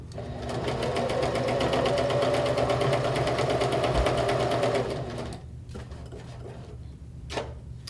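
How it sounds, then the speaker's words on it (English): A sewing machine runs a quarter-inch seam to the end of the fabric, a loud continuous whir with a steady stitching pulse, then stops, followed by a few faint handling clicks. "I'm just going to sew it all the way to the end"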